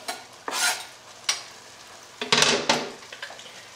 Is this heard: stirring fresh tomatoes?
yes